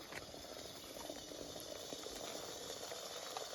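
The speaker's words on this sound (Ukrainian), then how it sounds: "Набираємо 300 мл окропу, заливаємо" Boiling water, about 300 ml, poured over freeze-dried food, a steady close hiss and rush of liquid that holds evenly for the few seconds with no talk.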